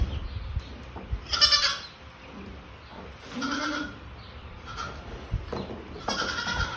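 Goats bleat on a farm at milking time, several overlapping calls from close and middle distance in short bursts over a steady rustling background, with no talk.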